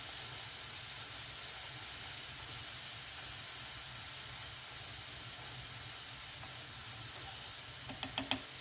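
Chopped onions sizzling in a frying pan in a home kitchen, a steady close hiss running throughout with a few brief clinks near the end.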